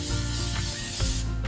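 Cooking spray hissing steadily onto a loaf pan before hot cross bun dough goes in, with a rattling, ratchet-like mechanical edge and brief pulses, loud and close throughout.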